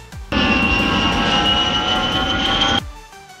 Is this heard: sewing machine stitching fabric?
no